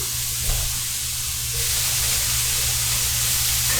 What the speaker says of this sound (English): I'm going to add the beef to this. And it might be kind of loud and sizzling